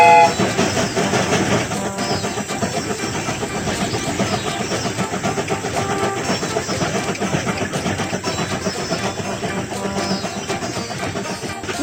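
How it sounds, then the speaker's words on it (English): A cartoon train sets off and runs along its rails, giving a steady loud rumble and clatter that continues evenly throughout, with no talking over it. "The train is about to start."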